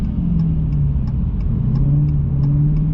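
A Dodge Hellcat Redeye with a fault accelerates gently on a road under a feathered throttle, its steady engine rumble rising slightly and close, with faint regular ticking over the drone.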